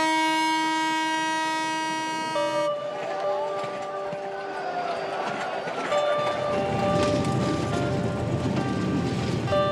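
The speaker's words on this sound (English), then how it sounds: "The horn blasts finally announce the arrival in Dhaka." A loud, blaring multi-tone train horn sounds as a crowded passenger train arrives in Dhaka, Bangladesh. After the long blast, the rumbling, clattering noise of the moving train takes over.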